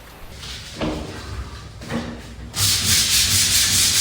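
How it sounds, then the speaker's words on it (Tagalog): Sandpaper scrapes back and forth across a wall in a storage room under renovation, rhythmic close rubbing strokes that grow louder and denser toward the end. "eto naman ako, liha to the max"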